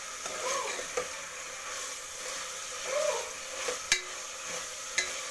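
Greens frying in oil make a soft, steady sizzle in a pan, broken by a few scraping stirs and sharp clicks of a spoon against the metal, with no talking.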